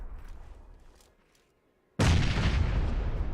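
After a quiet pause, a sudden loud video game grenade explosion erupts, followed by a sustained roaring rumble.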